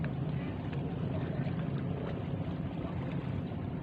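A tuna-fishing boat out at sea gives a low steady engine drone mixed with wind and water wash, constant and fairly quiet, heard from a distance with no talking.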